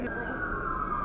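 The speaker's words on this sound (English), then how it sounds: "There are some sirens going on in the background" A distant emergency siren wails in the background as a steady sustained tone, audible under a voice in a kitchen setting.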